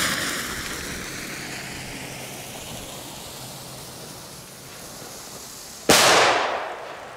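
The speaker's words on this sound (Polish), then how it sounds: "ten lącik przy końcu daje taki fajny w miarę efekt wulkanika, że te iskry wylatują z tej petardy" A DUM BUM MIDDLE RED firecracker pops with a sudden loud bang after a few seconds of hissing, sizzling noise from its spark fountain, the burst fading quickly into a rushing tail.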